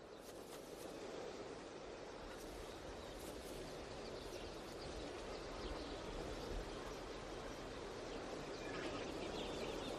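Greylag and bean geese call at Villafáfila, a dense, distant chorus of many birds honking and clucking together over a steady wash of background noise, fairly faint.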